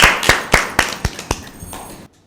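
Applause for team B in a Bible quiz at a village school: a short run of sharp, evenly spaced claps, about eight, fairly close and loud, fading slightly before cutting to near silence.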